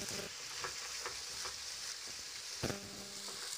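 Ginger garlic paste frying in oil with masala for matar paneer, a soft, steady sizzle with occasional sharp scrapes and taps of a spatula stirring the pan, close by.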